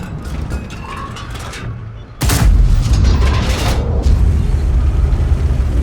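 Tank cannon fire in World of Tanks from a T95 tank destroyer, one sudden heavy boom followed by a long rumbling roar and continued engine and battle noise.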